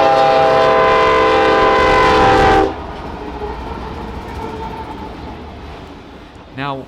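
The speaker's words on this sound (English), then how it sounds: "whenever I heard the horn a little bit up the tracks, I thought that was a pretty weird horn for a GEVO" Freight train on Union Pacific tracks, led by a GEVO locomotive, sounds a loud sustained horn blast for about two and a half seconds, then rumbles past with a steady roll, ending in a brief squealing tone.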